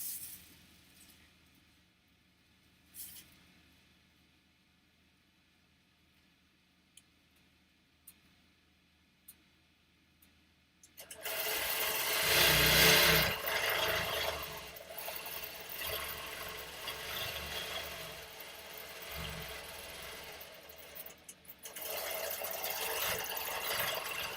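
Longarm quilting machine stitching across a quilt, silent at first with faint ticks, then a loud steady mechanical whirring and rattling that runs on for over ten seconds.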